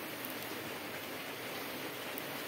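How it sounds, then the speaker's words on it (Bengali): A cabbage chicken roll fries in a pan over a gas stove with the flame turned up, giving a steady, dense sizzle like light rain that stays even and close throughout, with no talking. "একটুখানি আমি ভেজে নেব"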